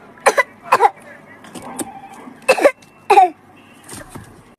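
A woman coughs repeatedly in a comedy sketch, several harsh bursts spaced irregularly at close range, with some throat-clearing sounds and quiet voices between them.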